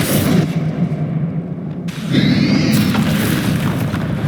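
A deep, booming Bombarda spell explosion in the Hogwarts Legacy game, loud and rumbling, with a rising whoosh and crackle as a second blast swells and lingers.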